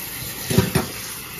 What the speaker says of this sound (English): And we want to rinse the macaroni off. So we're using cold water.